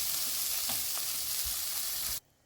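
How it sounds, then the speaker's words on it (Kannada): A ghee rice mixture with coriander and kasuri methi bubbles in a pot, giving a steady soft hiss broken by a few faint bubbling pops and scraping stirs, with no talk. "ಇದು ಚೆನ್ನಾಗಿ ಕುದೀತಾ ಇದೆ"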